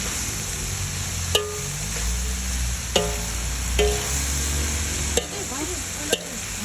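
Mixed vegetables including cabbage and pechay are stir-fried in a pan, a steady sizzle broken by a few sharp scrapes and clacks of the spatula as they are tossed.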